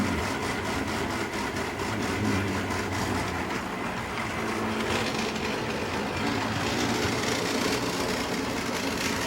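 Model train locomotive straining to pull a string of freight cars, its wheels slipping at low speed step; a dense, continuous motor whir and rolling rumble runs steadily throughout with no voices.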